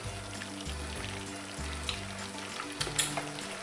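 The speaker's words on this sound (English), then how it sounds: "we're just going to simmer that away until your sauce reduces down and thickens up nicely" Mongolian chicken sauce simmers and reduces in a pan, giving a continuous soft bubbling sizzle with a few small pops, close and fairly quiet, with no voices.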